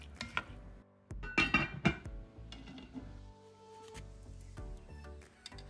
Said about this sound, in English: Now we'll kind of stir the mixture up.